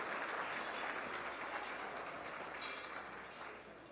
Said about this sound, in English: Can we please give her another round of applause to Ms. Brown and the hard work that she's doing.